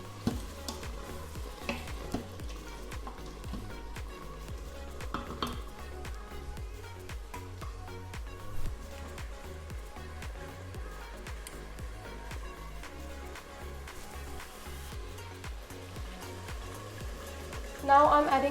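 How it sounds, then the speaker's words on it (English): Food, chicken curry, sizzles quietly in an Instant Pot on saute with occasional stirring clinks, a low steady crackle that continues throughout. "I'm just cooking it for a few minutes on saute."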